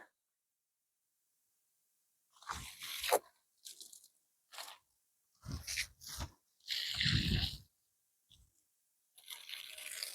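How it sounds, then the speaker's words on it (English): Wood chip mulch handled and spread by hand in a garden, irregular close crunching and rustling bursts separated by quiet gaps, soft overall with no talking. "This mulch is incredible."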